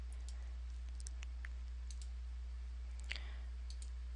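Faint, scattered computer mouse clicks while dragging a roof truss into place in home design software, a few sharp ticks spread across a quiet background with no one speaking.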